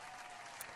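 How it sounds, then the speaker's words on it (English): Hand clapping from a small studio group on a morning radio show, a brief burst of dense applause, close and steady, with no voices over it. "I'm even clapping for myself"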